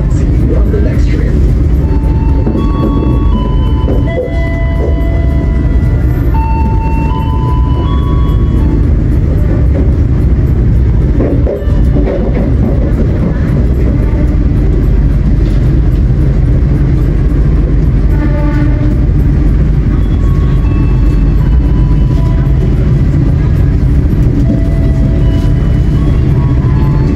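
Jaka Tingkir economy passenger train pulling into platform 2 at Lempuyangan station, Yogyakarta, with a loud continuous rumble of wheels and carriages and scattered high squeals over steady station ambience, no speech.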